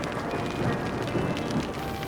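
A phenomenal thunderstorm pours hail onto ground beside lava at the Nyiragongo volcano, a dense, continuous roar of falling ice and rain with a low rumble beneath, steady and loud throughout.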